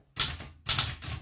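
Typing on an unused 1970 Olivetti Lettera 32 portable typewriter: three crisp, snappy keystroke bursts with mechanical clatter, close and loud, no talk.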